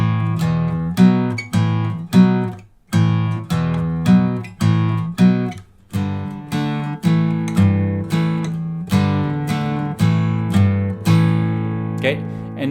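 An acoustic guitar picks a riff in a clear, loud, repeated pattern of strummed chords and short rests, played twice through with no talking over it.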